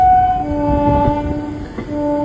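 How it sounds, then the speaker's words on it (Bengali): A train hauled by a WAP4 electric locomotive pulling into New Jalpaiguri station, a loud steady horn-like tone over low rumbling and clatter of wheels, close and continuous. "আমাদের ট্রেন এখন প্ল্যাটফর্মে ঢুকছে।"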